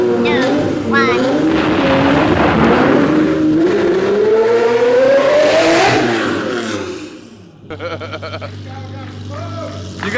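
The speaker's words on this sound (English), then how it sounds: "So this is the first official Hoonigan parking lot drag race, AKA the container race." A Lamborghini and an electric Smart car launch side by side in a parking-lot drag race. A loud, close engine roar climbs steadily in pitch over several seconds, then fades as the cars pull away, leaving a fainter whine and background chatter.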